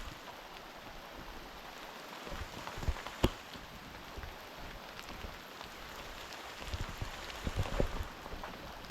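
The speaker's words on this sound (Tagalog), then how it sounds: "Medyo mahina na po ang ulan." Steady light monsoon rain patters on a bean farm field, a soft continuous hiss with a few louder drips and taps scattered through.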